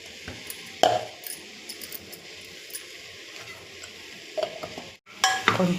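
Telangana-style mutton curry with garam masala being stirred in a pan, with a low sizzle under scattered spoon scrapes and clinks against the pan and a louder scraping flurry at the end.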